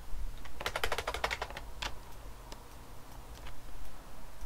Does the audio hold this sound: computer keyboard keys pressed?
yes